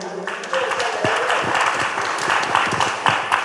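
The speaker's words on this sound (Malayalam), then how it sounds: "അതൊന്ന് കൈയടിച്ചേ" A crowd at a Lions Club awareness class in a hall bursts into applause, a dense patter of clapping that rises quickly and holds steady at moderate loudness.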